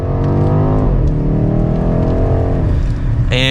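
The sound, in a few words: 2023 BMW X6 M Competition SUV accelerating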